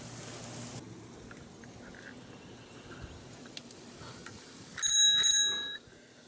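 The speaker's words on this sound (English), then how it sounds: "I think I broke the bell." A small metal bell rings twice in quick succession near the end, bright and close, after a stretch of quiet outdoor ambience with faint insect chirping.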